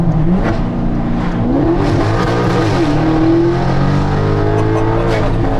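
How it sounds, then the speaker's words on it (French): Maserati GranTurismo Sport V8 with a modified X-pipe exhaust revs loudly and steadily nearby, its engine note rising and falling through several throttle blips while a voice talks underneath. "L'échappement extérieurement il est stock, mais en fait t'as changé un petit truc, tu m'as dit"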